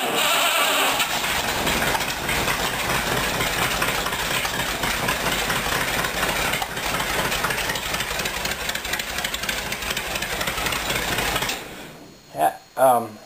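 An old Rambler car engine runs at a steady, loud idle with a rough, rapid knocking chug that lasts about eleven seconds, then cuts off abruptly, leaving a few short bumps and quiet.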